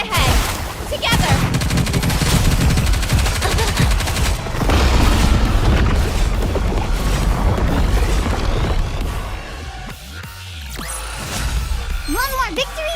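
Heavy video game gunfire, a loud sustained fusillade of booming shots and crashes that thins out near the end and gives way to sweeping chirps.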